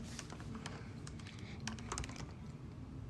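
Someone types on a computer keyboard, producing a steady stream of quiet, irregular key clicks that runs without pause and has no voices over it.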